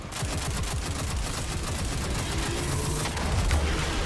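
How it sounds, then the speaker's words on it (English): Dense, continuous gunfire in the Destiny 2 video game during a master-level Vow of the Disciple raid, loud rapid shots layered with booms and no voices. "Alright, I'm shooting it."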